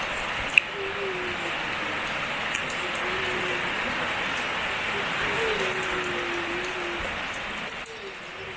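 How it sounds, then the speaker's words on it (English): Steady rain hisses continuously, a dense even wash of drops with a faint low tone drifting underneath and one sharp tick early on. "Whole heap of water upon the land."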